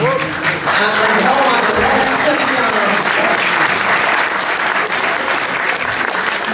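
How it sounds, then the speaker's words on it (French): Crowd applause at Melun's Brie festival honouring the Brie de Melun brotherhood's 30th anniversary, loud sustained clapping throughout with a brief voice speaking over it near the start. "Donc on peut les applaudir."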